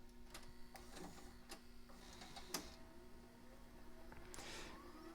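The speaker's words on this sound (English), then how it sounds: "we'll do our little rewind action as well." A Toshiba SV-771 S-VHS VCR with a drawer-style loader and gear-driven spindles rewinds a tape, giving a faint, steady mechanical whir broken by light periodic ticks and clicks.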